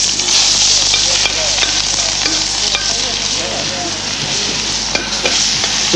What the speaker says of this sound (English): whack some onions into this pan